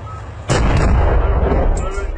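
A tank cannon fires during a Syrian army advance through a cemetery area in Deir Ez-Zor: one loud, close blast followed by a long, rolling rumble that fills the rest of the moment.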